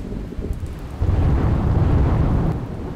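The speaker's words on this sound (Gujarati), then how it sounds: "ગીર સોમનાથના ગીર ગઢડામાં અવિરત વરસાદી માહોલ।" Heavy, unbroken rain pours down in Gir Gadhada, Gir Somnath, with a deep roll of thunder swelling in partway through and holding loud to the end.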